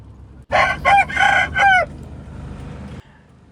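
A single loud rooster crow rings out close by in several rising and falling segments, followed by a low background hum and no speech.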